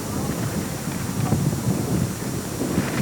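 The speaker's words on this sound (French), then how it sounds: "Le ciel menace, le vent s'élève." Wind gusts outdoors across a mini-golf course, a close, rumbling buffet of air that swells and dips over a few seconds.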